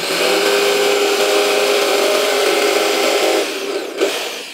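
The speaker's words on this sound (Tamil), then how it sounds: "அந்த அளவுக்கு அந்த எண்டு கேப்போட கரெக்டான சென்டர் பாயிண்டில் ரவுண்ட் பண்ணிவிட்டு அந்த இடத்த கட் பண்ணி எடுத்துறேன்." Power tool cutting a round hole in a PVC end cap, a steady high-pitched whine and grinding that runs for several seconds, then drops off near the end with a brief knock.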